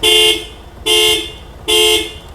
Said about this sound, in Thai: แล้วก็เดี๋ยวพี่บีบแต่ดังๆสามที